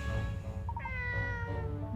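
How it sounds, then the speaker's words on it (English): A cartoon cat in Layton's Mystery Journey video game gives a short, clear meow over a steady low hum of game background music. "Weirdest looking cat I've ever seen."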